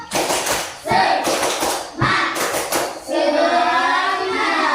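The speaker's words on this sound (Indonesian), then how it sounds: "sebelum itu tepuk semangat" Students in a classroom clap together in three rhythmic bursts, loud and close, followed by children's voices chanting in unison.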